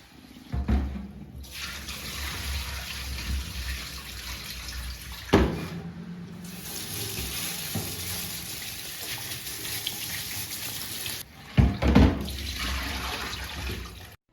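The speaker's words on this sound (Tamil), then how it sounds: "இந்த மெஷ்ஷை எடுத்து நம்ம ப்ளெயின் வாட்டரில் வாஷ் பண்ணிக்கலாம்" A greasy kitchen chimney mesh filter is rinsed under plain running tap water in a sink, with a steady stream broken by a couple of brief pauses and sharp clanks of metal against the basin.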